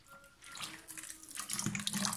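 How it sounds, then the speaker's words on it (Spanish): Very cold water is poured into homemade gazpacho, a soft, splashy stream heard close up that grows fuller and more turbulent as it runs. "le damos a agua. El agua tiene que estar muy fría."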